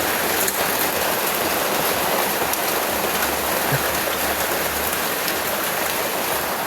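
Heavy rain pours down steadily and loudly in a dense, unbroken hiss with no voices, close to the listener throughout.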